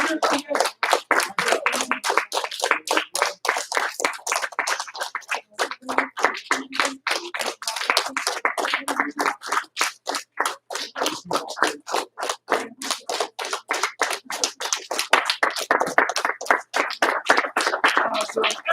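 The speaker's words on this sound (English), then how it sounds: "one more big round of applause" At a martial arts class, the audience claps for students earning their white belts, a long run of brisk, close, individually distinct handclaps that continues without pause.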